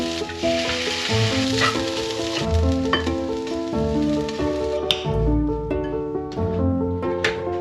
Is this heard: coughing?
no